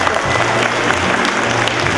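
A concert audience at a spring holiday concert claps steadily and densely, a full-room round of applause that holds at an even level throughout.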